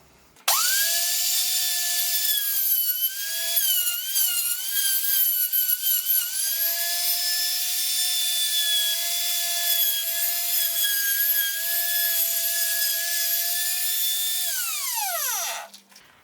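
A router cutting a circle out of wood, a loud steady high whine that runs for about fifteen seconds with shifting pitch as the bit works through the board, then winds down as the motor stops.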